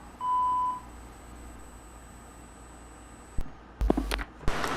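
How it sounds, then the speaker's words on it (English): A long electronic beep from a telephone answering machine in an analog horror video game, one steady tone near the start, followed by quiet and a few sharp clicks and thumps toward the end. "please leave a message after the tone and we'll get back to you as soon as we can."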